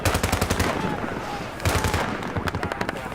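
Rapid automatic M4 rifle fire in the video game Battlefield 3, loud bursts of close shots with a short pause mid-way before firing resumes, with faint voices underneath.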